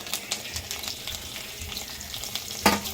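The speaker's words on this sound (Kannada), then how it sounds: "ಈಗ ಒಗ್ಗರಣೆ ಹಾಕ್ತೀನಿ" Tempering with curry leaves and dried red chillies crackling in hot oil in a home kitchen, a close, steady frying sizzle with small pops and one sharper burst near the end.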